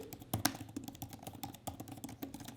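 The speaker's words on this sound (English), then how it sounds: "I have had no issues typing a majority of the time" Rapid, uneven clacking of iPad Magic Keyboard keys pressed in quick bursts, close and fairly crisp, with no voices.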